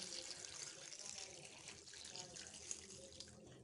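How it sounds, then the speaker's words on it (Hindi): Water pours steadily from a tap into a container holding tamarind and dried plums, a faint continuous splashing trickle with no speech. "और इसमें अभी हम पानी ऐड कर देंगे।"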